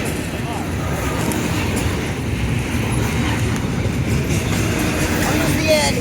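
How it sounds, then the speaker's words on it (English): A BNSF freight train with three engines and double-stacked containers rolls slowly along the rails, giving a steady, continuous rumble and rolling noise that stays fairly close throughout. "the trains go slow when they start to move"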